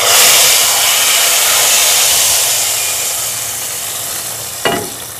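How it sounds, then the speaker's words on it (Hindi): Hot oil with browned garlic sizzles loudly as it hits cooked chana and mash dal, a broad steady hiss that slowly fades, with a brief clink near the end. "तो अब हम इसको दाल को तड़का लगाते हैं"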